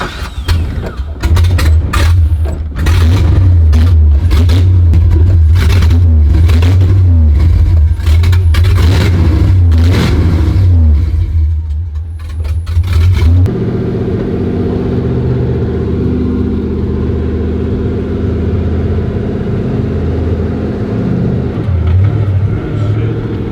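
Datsun car engine revving loudly and close, a rough rumbling roar for about thirteen seconds that then drops to a steadier, quieter idle-like drone, with voices speaking over it.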